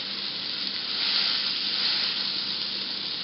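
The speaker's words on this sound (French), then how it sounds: "dans une poêle, j'ai mis de l'huile et du beurre. On va mettre notre steak à cuire." A beef steak for a homemade hamburger fries in a pan of oil and butter with a loud, steady, close-up sizzle and bright hiss that swells slightly midway, with no voices.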